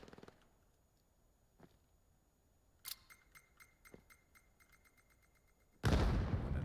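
A frag grenade goes off with a sudden loud, broadband blast near the end of a VAIL match, following a stretch of quiet clicks and small mechanical taps.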